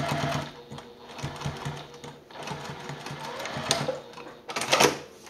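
A sewing machine runs in short bursts of rapid, rattling stitches while base-stitching wallet card slots, close and moderately loud, pausing briefly between runs.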